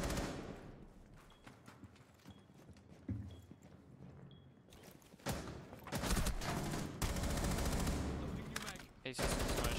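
Bursts of automatic gunfire in the shooter game Rainbow Six Siege, sparse shots first and then dense, loud volleys in the second half, with faint game sounds underneath.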